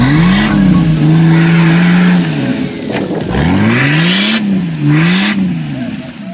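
An off-road vehicle's engine revs loud and close in a mud pit on wooded trails, climbing and falling through several throttle surges with a brief drop, the roar swelling and easing in waves.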